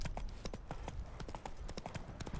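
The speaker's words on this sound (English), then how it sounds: "Roach is a very stupid horse." Horse hooves clip-clop steadily in The Witcher 3, a quick, even rhythm of close hoofbeats with no other sounds over them.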